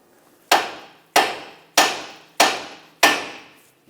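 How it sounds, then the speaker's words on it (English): A hammer strikes the side of a steering knuckle on a 2014-2021 Mazda 6 five times at an even pace to free the tie rod stud. Each sharp metallic knock rings loud and close and decays before the next. "Tap the knuckle on the side with a hammer, and that should separate the tie rod stud from the knuckle."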